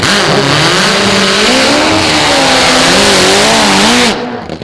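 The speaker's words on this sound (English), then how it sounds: "Both of them running engines that are based on the old KZ1000. Big difference is it's supercharged and it burns nitro." Two supercharged, nitro-burning drag racing motorcycles with engines based on the Kawasaki KZ1000 scream loudly at full throttle at a 2002 AMA Prostar drag race, the wavering engine howl holding close and intense before cutting off sharply near the end.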